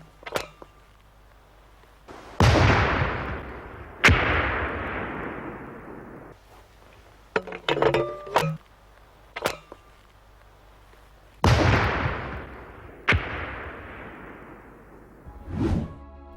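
A rocket artillery system lays down a high-explosive bombardment: sharp launches and impacts strike one after another, each trailing off in a long rumbling decay, with a few quicker whooshing crackles in the middle.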